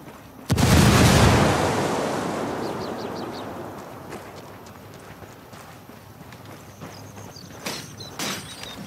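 A frag grenade explodes in the video game Ghost Recon Wildlands, one loud close blast with a long rumbling decay, followed by faint scattered distant shots and small clatters.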